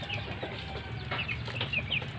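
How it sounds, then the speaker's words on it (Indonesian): Guinea fowl on a small farm give short, scattered clucks and chirps, close and moderately loud over a low background murmur. "Nah ini ayam mutiaranya nih"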